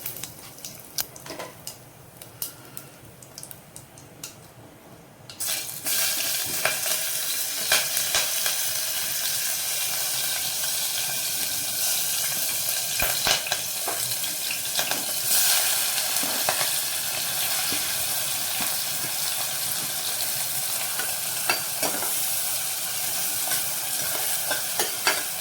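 Mustard seeds and cumin hit hot oil and burst into a loud, steady sizzle after a few quiet seconds, with scattered crackles and pops continuing throughout.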